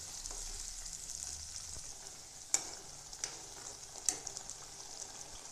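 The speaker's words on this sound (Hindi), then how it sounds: "हम इस पेस्ट को हल्का ब्राउन होने तक भूनेंगे" Onion masala paste fries in a pan for matar paneer, a soft low sizzle with a few sharp spoon knocks and scrapes against the pan, close but faint, no talk.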